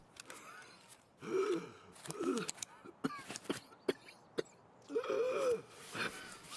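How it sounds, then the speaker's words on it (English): A video game character gasps and wheezes after a fight, several ragged breaths in bursts with short gaps between them, close and fairly quiet. "So at least that gasping will have stopped."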